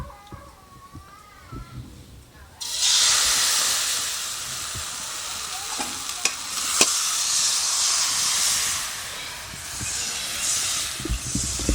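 Sharu chakli pitha batter sizzling in hot oil in a wok, a loud, steady frying hiss that starts abruptly and carries on with small crackles and stirring sounds, alone without talk.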